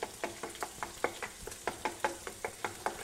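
Bacon cooks in a pan with a soft, even sizzle broken by quick, regular popping crackles, heard close up and alone.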